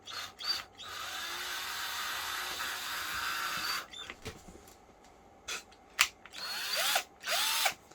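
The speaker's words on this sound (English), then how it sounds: "But we need to pre-drill everything. You can never just go drilling willy-nilly on hardwoods." A power drill pre-drills hardwood while a display frame is built for a horsehead fiddle, running in loud, sustained whirring bursts with brief pauses and a few changes in pitch.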